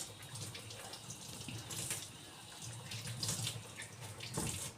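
Corn being washed under a running kitchen tap, a steady close rush of water splashing into a sink that continues throughout with small surges.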